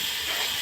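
Ginger garlic paste hitting hot oil in a pan for a chicken dish, a loud, steady hiss of sizzling across the whole short moment.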